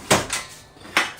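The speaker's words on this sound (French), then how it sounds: "Il y a une petite poignée dessous. Vous pouvez tirer comme un tiroir." The paper tray of a DNP DS620 photo printer is pulled out like a drawer: three short plastic clacks and sliding knocks, close and fairly crisp, with no talking.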